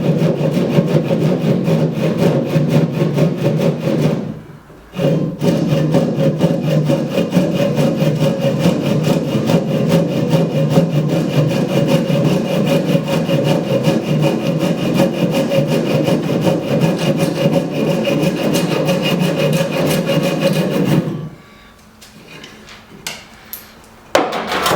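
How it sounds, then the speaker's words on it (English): A hand saw cuts a cedar inwale for a cedar strip canoe, its steady, loud back-and-forth strokes running continuously up close, with a brief pause near the start and the sawing ending in quiet wood rustling. "So I'm going to cut along that line, and I'm going to tip my saw slightly"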